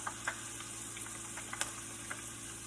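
Brussels sprouts crisp up in messy, spattering oil with a soft, steady sizzle broken by a few faint, scattered crackles and pops, quiet and without speech.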